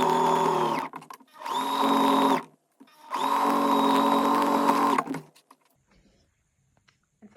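A sewing machine stitching the thick seams of a hoodie, running in three steady, whirring bursts of increasing length with brief stops between, close and loud, ending in quiet handling.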